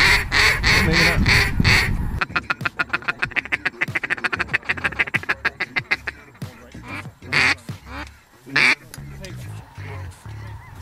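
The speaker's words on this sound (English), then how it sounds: "Three mallards on the right." Mallard ducks quack in repeated rapid bursts during a waterfowl hunt at a South Dakota lake, loud and close, with hunters' voices and other noises mixed in.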